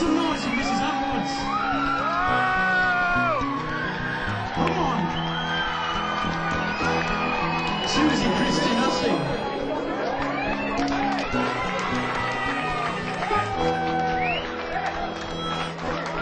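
A crowd at the World Gurning Championships in Egremont cheers, whoops and yells continuously, with loud shouting voices and chatter layered throughout.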